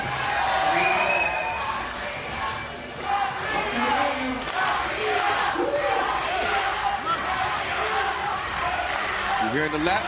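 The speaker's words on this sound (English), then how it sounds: "You're hearing the Latvia chants in the crowd" Latvian fans chanting in a crowded arena at the FIBA 3x3 World Cup finals in Amsterdam, rhythmic crowd voices and cheering filling the hall under a commentator's voice, with a ball bouncing.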